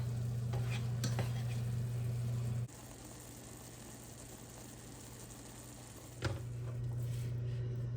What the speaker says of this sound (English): Apples are cooking down.